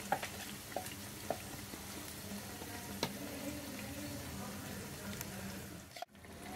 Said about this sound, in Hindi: अब ये जो मसाला बचा हुआ है ये डालकर 2-3 मिनट के लिए भून लेंगे।